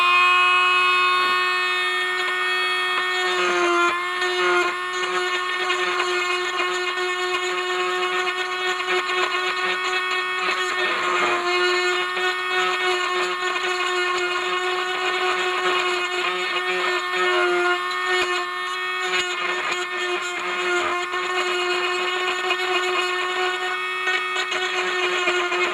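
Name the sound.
power tool grinding away plastic on radiogram part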